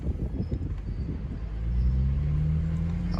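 A BMW 335i with a large intercooler and new subframe pulls away on its first drive, a low engine rumble swelling into a steady rising drone after a moment of road noise and clatter.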